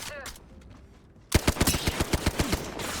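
Rapid bursts of gunfire in the video game Apex Legends, about a dozen sharp shots in quick succession, loud and close, following a quieter stretch of game ambience.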